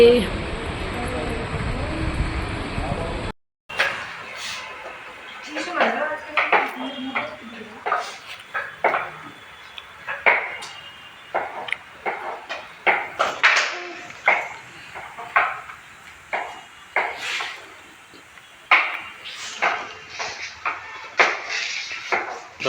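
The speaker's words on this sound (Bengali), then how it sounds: "ওরা সবজি কাটছে" Vegetables being chopped on a board, with steady, fairly close knife taps in an uneven rhythm. A brief noisy burst comes first, then a gap, and talk and background activity run underneath.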